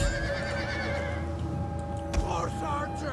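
Horses whinny with shrill, trilling cries in a Mongol invasion video game battle, set over a steady low din of combat. A dull thump sounds partway through.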